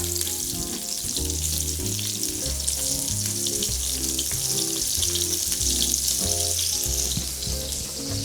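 Onion sizzles steadily in a hot pan, a bright continuous crackle with a melodic background music track playing underneath.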